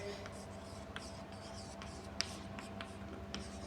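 Chalk or marker scratching out a physics question on a board during a ray optics lesson, a faint run of short strokes and taps over a steady room hum.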